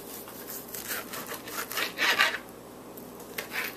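A serrated knife saws through the fat on a raw chicken breast in short, rough rasping strokes, close and fairly quiet, with a louder scraping pass in the middle.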